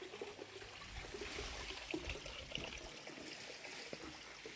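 A small river in Malawi flows with a faint, steady trickling and gurgling, heard from a short distance with nothing else over it.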